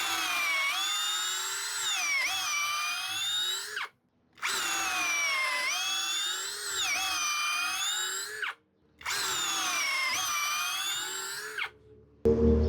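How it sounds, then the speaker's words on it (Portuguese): A Hanabi LJ2022 drill bores into wood with a 10 mm wood bit, a loud high whine in three long runs separated by short pauses, ending in a brief low thump. "broca para madeira, 10 milímetros."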